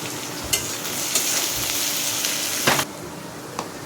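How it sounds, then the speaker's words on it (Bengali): Steady frying sizzle of onions with turmeric and salt in a pan, with occasional stirring scrapes and clinks, close and continuous, no voices. "হলুদ আর লবণ দিয়ে ভাজতে থাকবো"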